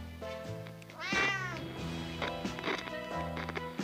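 A cat meows once, a rising and falling cry standing out over background music and movie-style sound effects.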